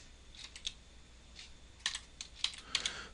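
Typing on a computer keyboard, a few scattered close key clicks in short uneven clusters, quiet and alone.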